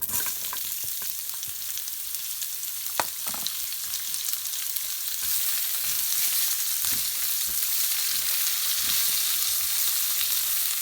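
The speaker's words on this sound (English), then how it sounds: "So I've chopped a full size onion. There it is. I've chopped an onion. And we're going to add this in." A full-size chopped onion added to a hot pan for a lentil curry, with a steady sizzle that grows louder after a few seconds and is broken by occasional stirring clicks and knocks, and no talking.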